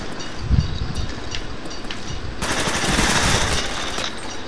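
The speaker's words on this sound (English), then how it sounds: "I just shot him like 100 times." Gunfire in the video game Call of Duty Black Ops, an early thud followed by a sustained rattling burst of automatic shots, loud and dense through the second half.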